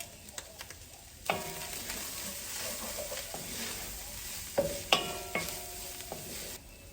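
Beef going back into a very hot pot for a chili-spiced broth dish, sizzling and clattering with stirring knocks and scrapes after a quiet first second, moderately loud and close.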